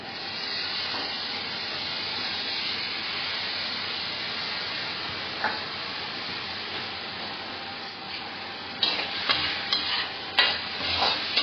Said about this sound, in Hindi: ऑयल मटर को हल्का सा सौटे कर लेंगे और इन मटर को इनमें डाल देंगे।